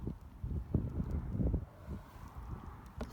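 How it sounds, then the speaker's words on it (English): Gusty wind buffeting outdoors, low rumbling bursts that rise and fall unevenly, with a sharp knock near the end. "Pretty windy out here today"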